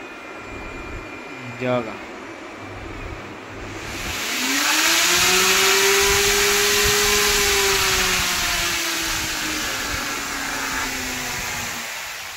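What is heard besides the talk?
electric motor running, speed increased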